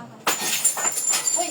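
Something falls and breaks with a sharp glassy crash and scattered clinks, close by, with voices talking over it.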